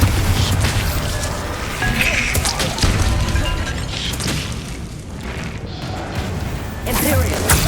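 Repeated booming Bombarda spell blasts and crashing impacts in Hogwarts Legacy combat on PS5, loud and dense over a continuous rumbling battle bed across several seconds.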